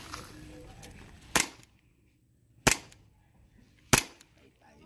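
Three sharp pops from an airsoft 1911 Para Ordnance pistol being test fired outdoors, evenly spaced about a second apart, loud and close with quiet gaps between.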